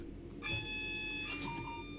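Steady electronic tones sound in a train cab in Train Sim World on the Manchester Airport commuter route, with several sustained pitched beeps layered over a low engine hum and shifting partway through.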